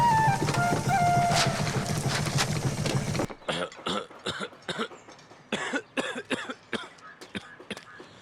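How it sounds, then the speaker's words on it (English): Several short coughs in a rough, uneven series, heard up close after a few seconds of busy background noise. "See how you're coughing?"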